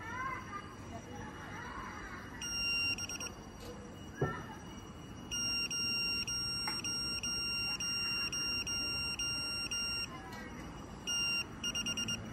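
Repeated electronic beeping from an Astro Njoi satellite decoder during installation and signal alignment, steady high tones pulsing in on-off stretches, fairly quiet, with a faint voice and a brief knock partway through.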